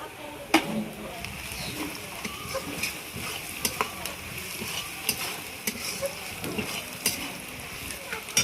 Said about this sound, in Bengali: চিনিটা কিছুক্ষণ নাড়ার পরে